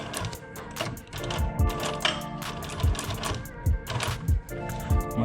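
A double needle sewing machine stitches an Air Jordan 1 sneaker upper, a loud mechanical whirring burst with rapid rhythmic needle clatter, pausing briefly and restarting several times.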